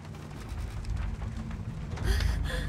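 Storm and rain in the video game Shadow of the Tomb Raider: a low rumbling wind-driven downpour with soft patters, swelling into a louder gust or thunder roll near the end, moderately faint.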